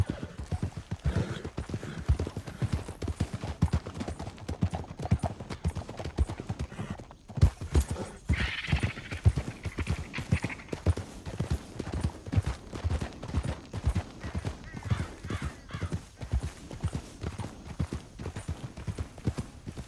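Rapid, rhythmic hoofbeats of galloping horses from the video game Red Dead Redemption 2 pound steadily throughout, with a brief horse whinny partway through.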